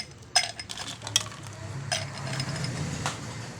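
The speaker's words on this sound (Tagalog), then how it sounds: "At ang una nga nating ilagay ay yung ice." Ice cubes drop into a glass for a mango Coke float, with a few sharp clinks and clatters close by, followed by softer rattling and shuffling.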